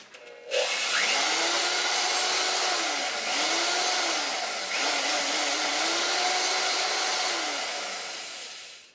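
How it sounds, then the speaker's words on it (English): Electric drill running in reverse on a bench, spinning a motorcycle tachometer cable, a loud steady motor whir that starts abruptly with faint wavering squeals, then fades slightly at the end. "I'm running this electric drill in reverse."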